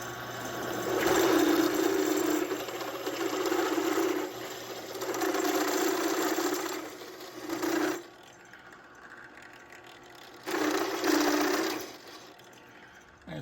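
A steel angle bracket is cut out with a power tool in a home garage, a loud sustained whining buzz in three long bursts with short pauses between them, and no voices.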